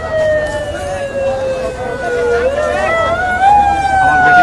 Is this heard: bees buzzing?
no